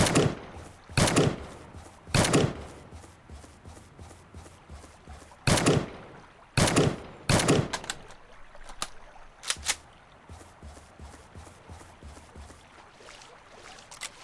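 Gunshots from the top-down battle royale game Surviv.io ring out in sharp, loud bursts, some single cracks and some quick doubled volleys, spaced irregularly across the span with a low rumbling bed between them.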